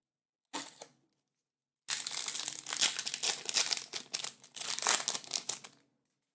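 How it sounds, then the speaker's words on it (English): Foil wrapper of a Mystery Booster Magic card pack crinkled by hand, a short crackle then a long, dense run of bright crumpling rustles, close and fairly loud, with no talking. "Sorry, let me get this wrapper out of here."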